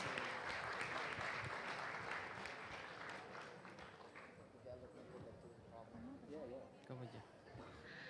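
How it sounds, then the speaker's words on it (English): Audience applause fills a hall at an international English studies conference in Indonesia, loud steady clapping at first that fades gradually while people talk over it. "let's give applause to our moderator and the keynote speakers"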